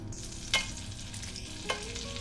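Butter melting into hot ghee in a pan, a steady close sizzle broken by two brief sharp crackles or utensil clicks, with no one speaking.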